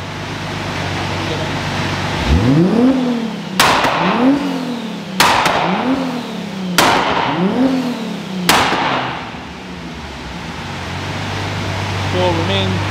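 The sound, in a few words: tuned car running on a dyno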